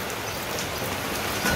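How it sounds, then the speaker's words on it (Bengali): Steady rain falls in a Bangladeshi village on a rainy midday, a soft, even hiss and patter close by that continues without a break for the brief moment, with no talking. "অনেক সুন্দর বৃষ্টি হইতেছে"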